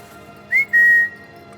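A person whistles close by: a short rising note, then a longer held tone, heard clearly over quiet background.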